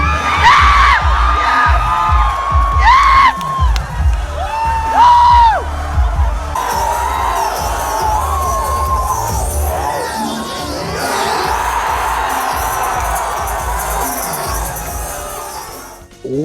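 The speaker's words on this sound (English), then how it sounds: "the crowd spontaneously erupted with cheers and screams" A large Sonic fan crowd at a game reveal erupts in loud cheers, screams and whoops that swell and overlap, with shrill individual shrieks early on giving way to a sustained roaring wash of crowd noise.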